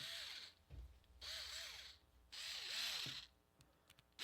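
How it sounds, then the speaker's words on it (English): A power drill whirs in three short bursts with pauses between them, its motor pitch rising and falling, heard faintly at a distance. "what you using the drill for?"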